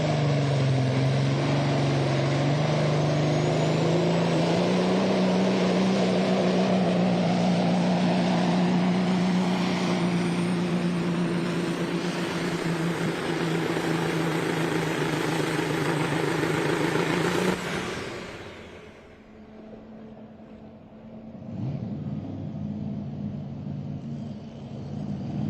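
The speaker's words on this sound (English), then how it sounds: "Bonnie Craig Mao will be our Hypermax test puller, the Limitless Peterbilt" The Limitless Peterbilt Hypermax truck from Owenton, Kentucky roars through a test pull at a truck and tractor pulling event, a loud sustained engine howl that climbs in pitch for about eighteen seconds, then cuts away to a quieter distant rumble.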